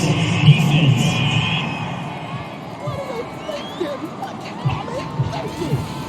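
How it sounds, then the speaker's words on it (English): A home football crowd roars and cheers after a referee's penalty call, a broad swell of voices that fades under a commentator talking over it. "This home crowd, they're happy with that call."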